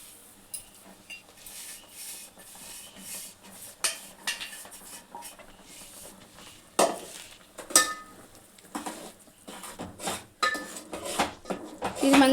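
Rice flour powder, ground with a little sugar, is poured into a bowl and mixed for Telangana Saddula Bathukamma rice flour laddus. Soft scraping and stirring runs throughout, with sharp clinks of a utensil against the bowl growing louder and more frequent toward the end.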